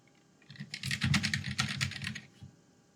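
A Macintosh II keyboard typed on rapidly in one continuous, close run of clicking keystrokes lasting about two seconds, with no talking.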